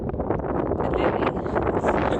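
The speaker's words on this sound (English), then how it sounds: "A bit of wind, as you may be able to hear." Steady wind buffets the microphone outdoors at sunset beside a playing field, a continuous low rumbling roar that stays fairly even throughout with no clear voices.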